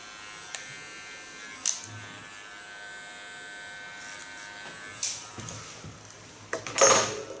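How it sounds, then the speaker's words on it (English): A small electric hair clipper trims a contour line on ultra-short hair, a faint steady buzz running throughout with a few louder clicks and handling bumps near the end. "Go to my small clipper again."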